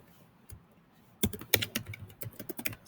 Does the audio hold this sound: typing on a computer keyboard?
yes